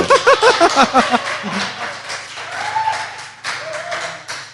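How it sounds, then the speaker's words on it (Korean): A studio audience claps in a quick burst of sharp, rhythmic hand claps at first, which then loosens into a softer, diffuse round of applause with some faint voices underneath. "박수 한번 쳐주세요."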